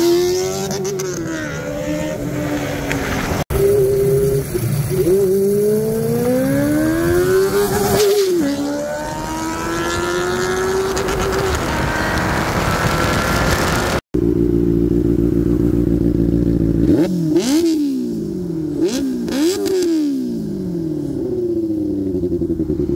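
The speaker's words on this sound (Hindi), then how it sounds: "सो गाइस आपने देखा कुछ बेनेली का साउंड और थोड़ी सी टॉप स्पीड मैंने खींचने की कोशिश करी" A Benelli 600i motorcycle with an SC Project exhaust revs and accelerates loudly nearby, its engine note rising and falling through gears in repeated sweeps.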